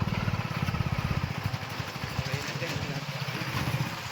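A New Holland 4710 farm tractor's diesel engine runs close by with a steady, rapid chugging pulse that eases slightly midway, and faint voices can be heard underneath.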